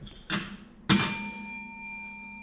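A small hand bell is struck once to mark a sale, giving a bright ringing tone that decays slowly after a softer tap just before it, heard alone and close.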